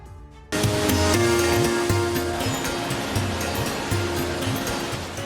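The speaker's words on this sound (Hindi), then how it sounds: "आंखों को सुकून देने वाला चीन का एक खूबसूरत वाटरफॉल।" A tall waterfall in China, billed as the highest in Asia, roars as a steady broadband rush of falling water after a brief quieter start, loud and continuous throughout.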